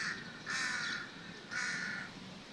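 A crow cawing in Lumphini Park, two loud, drawn-out harsh caws about a second apart, clear and fairly close over quiet background.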